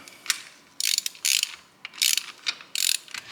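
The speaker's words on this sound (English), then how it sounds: "So now I'm ready to loosen up the tensioner and take this off" A ratchet wrench loosens a hydraulic timing belt tensioner on a Ferrari, giving four or five short bursts of fast metallic clicking with brief pauses between them, close and clear with no talk.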